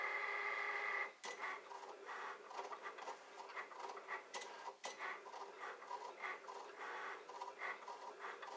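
A pen plotter-style printer drawing out the words "thank you" with a pen, giving a steady mechanical scratching and whirring with small clicks and brief pauses, moderately close and quiet, no talk.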